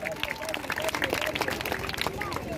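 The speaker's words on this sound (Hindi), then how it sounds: "लगा ताली जरा जोरदार" A crowd at a political campaign gathering claps and cheers loudly in a dense, continuous burst, with shouting voices and chatter mixed through the applause.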